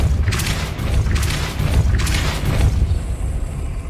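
A Depulso spell fires in Hogwarts Legacy, a heavy booming blast with rumbling low thuds that repeats in a few strong pulses before fading, loud and close with no talk.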